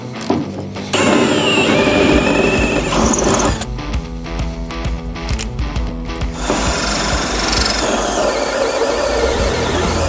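A power drill bores holes during a DIY Burnewiin install on a 2025 Allied Mustang 23' HT boat: loud whirring bursts up close, a pause with clicks and knocks, then drilling resumes.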